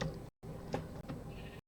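A sheep in Minecraft bleats in a couple of short, wavering calls, clear and fairly close, with brief silent gaps between.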